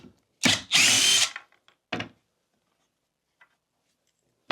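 Cordless power drill backing screws out of a king bed frame: a short whir near the start followed by one long loud burst, then a brief second spin, with quiet gaps between.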